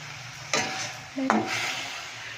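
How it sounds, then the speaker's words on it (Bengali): Drumstick flowers fry in a home kitchen pan, giving a soft steady sizzle that swells into two sharper hissing bursts, the second with a brief clink of the pan. "সজনা ফুল ভাজা করছি এখন"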